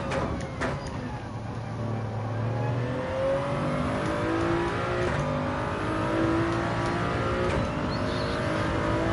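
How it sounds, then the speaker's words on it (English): Toyota Supra engine in Gran Turismo 7 revving hard: a loud, sustained engine drone rising and shifting in pitch through gear changes, continuous and close for the whole stretch. "I'm revving it out again. Shouldn't be doing that in a Supra."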